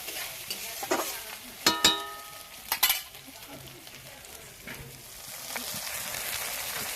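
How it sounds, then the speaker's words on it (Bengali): Ginger, garlic and onion frying in a pan for a village fish curry, a soft steady sizzle broken by a few sharp clanks and scrapes of a metal spatula against the pan, close up, no voices. "আদা রসুন পেঁয়াজ ভাজা হয়ে গেছে।"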